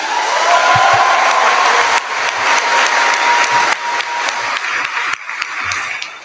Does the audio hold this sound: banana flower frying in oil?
no